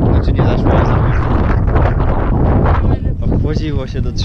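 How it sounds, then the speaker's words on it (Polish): Strong gusts of wind buffet the microphone with a loud, rumbling roar throughout on Coron island in the Philippines, and a voice briefly speaks near the end. "Jej, wiatr."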